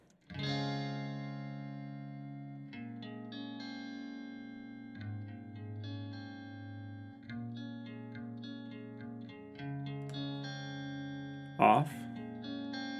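Electric guitar playing sustained chords and single notes with a spacious, lingering reverb tail, plus a sharp knock near the end.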